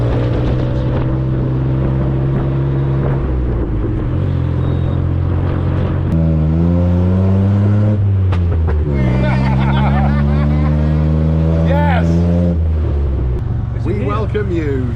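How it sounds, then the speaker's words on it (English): Tuk-tuk riding through Bangkok traffic, its engine droning steadily and shifting pitch as it speeds up and slows, with street noise around and people talking over the ride throughout. "tuk-tuk vibes."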